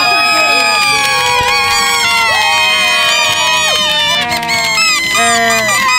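Sports fans at the Bison Track Show 2018 cheering and shouting loudly, with shrill children's voices and high screams rising over a constant roar of the crowd.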